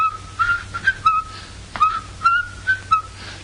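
A person whistles a series of short, sliding tones to imitate a steamboat whistle, clear and close with brief pauses between the notes and no talking over them.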